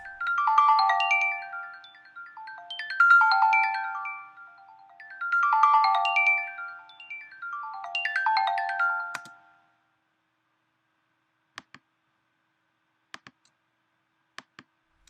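A bright synth melody from Logic Pro X's Arpeggiator plays in quick repeating arpeggiated runs for several seconds, then stops, leaving a few isolated soft clicks in near silence.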